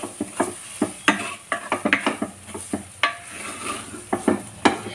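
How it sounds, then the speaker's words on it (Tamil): Sautéing with turmeric powder in a pan for meal maker egg rice brings a soft sizzle under repeated close spoon scrapes and sharp metallic clinks against the pan. "மஞ்சள் தூள் போட்டு நல்லா வதக்கிட்டோம் இது நல்லா வதங்கட்டும்"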